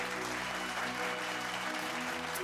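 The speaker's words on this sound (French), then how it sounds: "sous vos applaudissements sur Balpop" Audience applauding on a televised French music show, a steady wash of clapping from a crowd heard faintly beneath sustained musical tones.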